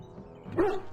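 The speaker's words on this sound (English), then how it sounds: "Look at this beautiful doggy." A dog in the fantasy role-playing game Dragon Age Origins gives a single short bark or yip, close and fairly loud, over a low steady background hum, with no talking.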